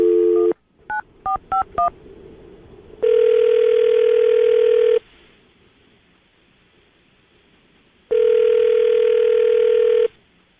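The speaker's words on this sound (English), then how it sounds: "I'm going to dial the phone number right now, get her on the phone" Rapid touch-tone dialing beeps, then two long electronic ring tones separated by a few seconds of quiet line hiss.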